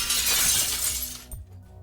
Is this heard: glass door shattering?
yes